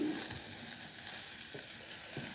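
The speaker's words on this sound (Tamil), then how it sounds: "இதை போட்டு நல்லபடியாக நாங்கள் இப்போ வதக்கி எடுக்க வேணும்" Dried red chilies and chili powder sauté in a pan for a prawn and turkey berry curry, making a faint, even sizzle with a couple of soft stirring scrapes. No one speaks.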